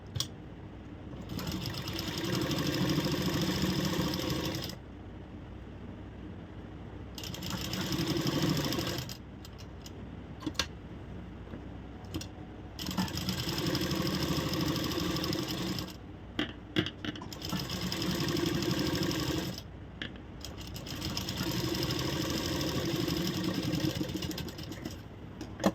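Sewing machine stitching a blouse lining to the main fabric, running in about five steady bursts of several seconds each, separated by short pauses and light clicks, with no talking.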